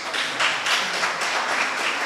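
Audience applause after a senator's remarks, a dense patter of many hands clapping at close range, swelling in slight waves and continuing steadily without talk.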